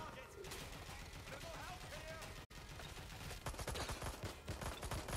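Rapid gunfire bursts in a tactical shooter video game, clustered volleys loud and close with dense overlapping shots, under a busy game soundscape with voices in the background.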